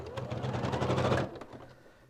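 Sewing machine stitching a lace patch back down along a garment hem, a fast rapid chatter of needle strokes that runs steadily close by, then stops and fades into quiet.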